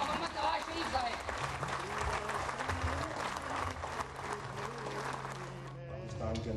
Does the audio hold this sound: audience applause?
yes